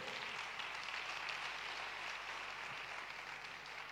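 Church congregation applauding and cheering for Jesus at a French-language leadership gathering, a steady broadband wash of clapping that holds at an even level for the whole span with no gaps.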